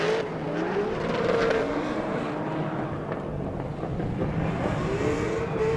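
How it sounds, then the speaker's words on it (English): A drift car at an LS Fest drift challenge warms up its tires, the V8 engine droning loud and steady with rising and falling revs, nearby and continuous without talk. "Breitenstein over here warming up his tires"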